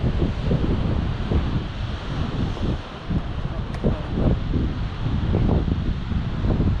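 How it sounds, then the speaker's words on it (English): Rough wind buffeting the microphone on a Cornwall clifftop at Perranporth over the dull, rolling wash of surf breaking on the shore below, continuous and fairly loud. "Or you can hear the waves down there."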